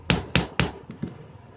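Three sharp hammer taps ring out on an exhaust fan motor's bearing housing, evenly spaced and close, followed by two softer lighter knocks.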